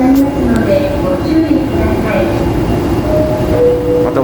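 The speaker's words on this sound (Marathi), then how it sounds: "फायनली मित्रांनो आता वापस एक शिंगांसन घेतोय." Rumble and rolling noise of a Shinkansen bullet train in Japan, running on the Tokyo–Karuizawa line, a steady broadband roar with faint squeals and tones throughout, under a voice speaking.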